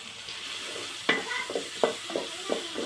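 Garlic and chopped onion frying in a pan are stirred, a soft steady sizzle broken by several scraping spoon strokes at irregular intervals, close and moderately loud, with no talk.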